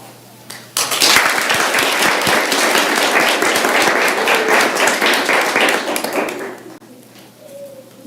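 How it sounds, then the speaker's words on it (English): Students are applauded at a Hazel Park School District board of education meeting, with a full room clapping loud and steady for several seconds before the sound fades out near the end. "Can we have one more round of applause for our super students?"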